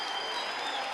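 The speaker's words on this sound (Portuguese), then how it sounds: "Dê a melhor salva de palmas que você puder ao Senhor Jesus." Congregation applauding at a Brazilian evangelical church service, a dense, steady wash of many hands clapping together, close and full for the whole second with no break.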